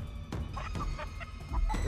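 Chicken clucks from the video game Chicken Feet, a handful of short, choppy clucks in an irregular rhythm over a low background rumble.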